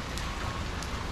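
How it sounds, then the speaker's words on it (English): Rain is starting to fall outdoors, a steady soft hiss of drops with a faint low rumble underneath. "Great, it's starting to rain."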